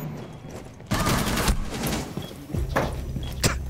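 Bursts of rapid gunfire from the video game Rainbow Six Siege, a loud volley breaking out after a quiet start and returning in sharp clusters, as if shots are fired through a wall during a tense round.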